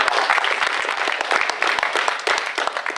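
Steady applause from a wrestling crowd, with dense, continuous clapping holding at an even level for the full stretch and no voices standing out.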